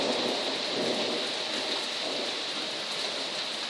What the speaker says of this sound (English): But mostly thunder I'm hearing right now.